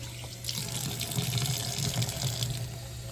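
Water poured into a yeast fertilizer mix in a watering container, a close, steady gushing fill lasting a few seconds.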